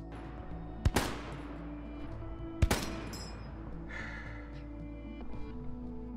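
Two sharp, loud M1 Garand rifle shots in the video game Hell Let Loose, spaced about two seconds apart, each followed by a short echoing decay over low battlefield rumble and faint distant shots.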